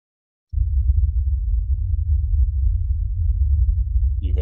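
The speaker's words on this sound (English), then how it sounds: "You hear that? The low rumbling." Deep, steady low rumble of a red giant star's oscillations rendered as sound, starting abruptly after a brief silence and droning continuously at an even level, with a faint higher flutter near the end.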